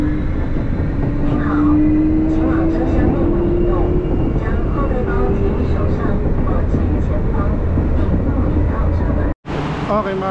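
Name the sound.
Taipei MRT Brown Line train ride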